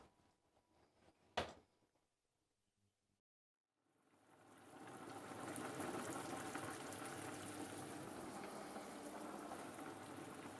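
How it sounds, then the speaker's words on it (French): Sugar and water cooking into caramel in a saucepan, starting with a brief knock and near silence, then a steady loud bubbling hiss that fills the rest of the clip. "Et je mets mon caramel à cuire."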